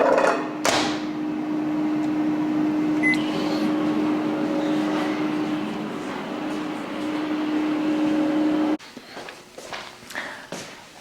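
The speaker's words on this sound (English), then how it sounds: "So I'm gonna warm up this in the microwave." A microwave oven warming spaghetti squash hums steadily for about eight seconds, then stops, followed by a few faint clicks and handling sounds nearby.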